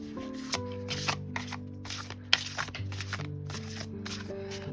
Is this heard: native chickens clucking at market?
no